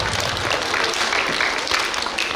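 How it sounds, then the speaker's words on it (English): Children and staff at a school student-of-the-month assembly give a brief round of dense, lively applause for award winners, with no pause in the clapping. "one last applause for all of our awardees for character trait of kindness"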